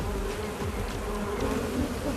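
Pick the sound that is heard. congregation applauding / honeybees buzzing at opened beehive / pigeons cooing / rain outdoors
honeybees buzzing at opened beehive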